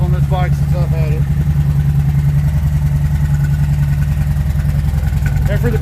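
A Kawasaki Vulcan Vaquero motorcycle engine idles steadily after a cold start, a loud, close, continuous low rumble with a few higher mechanical tones near the start.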